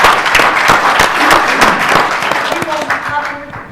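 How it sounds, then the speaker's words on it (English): Clapping from a conference audience, with sharp individual claps that are loud at first and then thin out, while voices talk over the tail end. "give him a round of applause for that"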